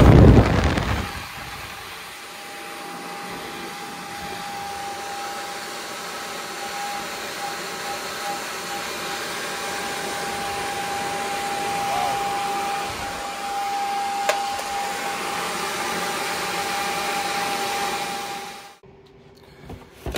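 A 3D-printed VTOL RC trainer model, upscaled to 120%, hovers with a large roll valve fitted, its ducted fan giving a loud, steady high-pitched whine for about eighteen seconds before cutting off abruptly.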